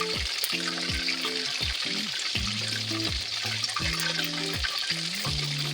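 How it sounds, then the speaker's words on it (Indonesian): Loud, continuous sizzling of duck frying with spices in hot oil over high heat, with dense crackling and a low hum of kitchen sounds underneath. "kita goreng pakai api yang besar"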